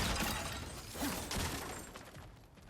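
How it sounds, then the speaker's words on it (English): Objects shattering and breaking apart in God of War Ragnarok, a dense crunching, splintering rush of debris with a few sharper impacts, loud and close, fading slightly toward the end. "back to smashing through things for fun and profit"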